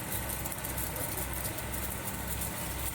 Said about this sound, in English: Here we are testing one sort of a 5 ton per day flake ice machine